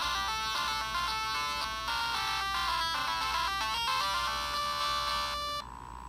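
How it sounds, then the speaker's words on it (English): Tinny chiptune-style game music blares from the tiny built-in speaker of a VG Pocket Max handheld console, bright and thin with buzzy repeating notes, heard close and continuous for several seconds before cutting off. "It has a tiny little speaker in which the sound comes out. The sound sounds like this."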